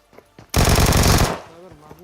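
Battle royale video game gunfire comes as one loud, fast burst of automatic shots lasting under a second, followed by a ringing tail, with a voice faintly around it.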